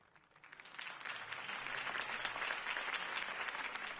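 A campaign rally audience bursts into applause after a speech, starting lighter and swelling into a dense, sustained roar of clapping from a large crowd, heard at a moderate distance with no voices over it.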